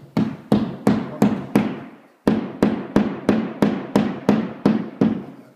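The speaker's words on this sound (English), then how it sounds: "pound that piece in until the threads engage the sheetrock." A hammer pounds a wall anchor into sheetrock in a series of sharp, evenly spaced blows, six strikes, a short pause, then ten more in a steady rhythm, loud and close with no talking.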